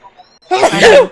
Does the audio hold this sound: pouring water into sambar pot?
no